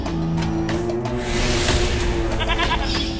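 A goat bleats over a steady bed of dramatic background music and broad noise, its wavering call rising out of the mix near the middle of the scene, in a fantasy drama where a child has been turned into a goat.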